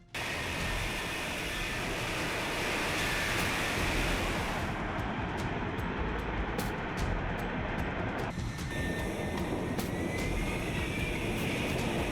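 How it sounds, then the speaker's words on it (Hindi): An F-35 stealth fighter in flight at Hill Air Force Base, Utah, makes a continuous broad roaring rush that swells slightly, then dips and shifts near the end, with no speech. "आसमान की तरफ उड़ान भरता स्टील की चमक से लिपटा F-35"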